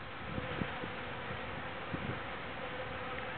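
Honeybees fly around the entrance of a hive in a steady, dense buzzing drone, with a few soft brief bumps near the microphone and no talking.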